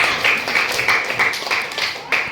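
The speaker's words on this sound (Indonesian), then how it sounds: "Tepuk tangan buat kelompok kita" A classroom group applauds, a burst of brisk hand clapping rising and falling in loose waves over a couple of seconds, with voices mixed in.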